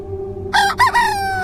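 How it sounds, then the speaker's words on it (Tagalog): A rooster crows once, loud and close, in a drawn-out ringing call that begins after a short stretch of low steady hum and fades at the end. "Kasabay ng pagtilaok ng manok"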